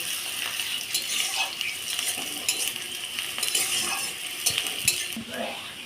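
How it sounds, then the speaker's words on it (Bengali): Onions sizzle and fry in a pan until reddish, a soft steady crackle with scattered clinks and scrapes of a spoon stirring against the metal, close and fairly quiet, no talking. "পেঁয়াজটাকে আমি লাল লাল করে ভেজে নেব"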